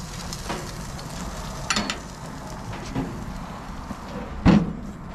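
Food stuffed with onion and tomato sizzles steadily in a hot pan, with a soft scrape and a brief louder clatter near the end as it is turned over.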